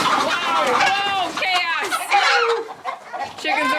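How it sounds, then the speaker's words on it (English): Chickens cluck, squawk and flap in a frantic, overlapping flurry inside a movable coop, close by, with people talking and moving amid the commotion. "chaos! Chickens are flying."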